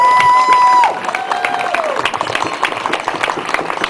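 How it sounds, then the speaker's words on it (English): Crowd at an end-the-war rally in Tennessee applauding and cheering, dense clapping with scattered shouts, opening under a sustained feedback-like whistle that fades after the first second. "Give yourselves a round of applause."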